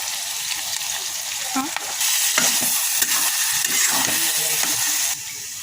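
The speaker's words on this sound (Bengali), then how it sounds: "কিছুক্ষণ পর পর এইভাবে নেড়ে নেড়ে এটাকে লাল লাল করতে হবে" A mashed dead-fish mixture for a Bangladeshi bhorta fries in a pan over lowered heat, its continuous close sizzle broken by repeated scraping stirs, then louder crackling hiss in the middle before easing off.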